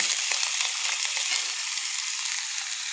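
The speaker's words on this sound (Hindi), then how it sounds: "इनको हल्का हल्का फ्राई कर लेते हैं" Carrots, bell pepper and cabbage lightly frying in a pan of hot oil, a steady, bright hiss and crackle close to the pan, fairly even throughout with no voices.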